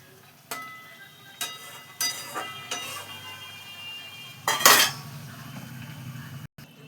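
Prawns go into a pan with a series of spaced metallic clinks and scrapes of utensil on pan, a louder rattling burst near the end, over a faint background hum.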